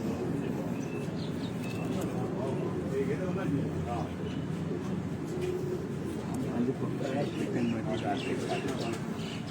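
Pigeons coo softly and repeatedly, mixed with scattered chirps, under a steady layer of background noise and talk.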